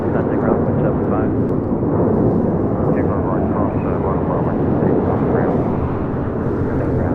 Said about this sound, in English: This is United Airlines 1652 taking off to Phoenix on a 737-900ER.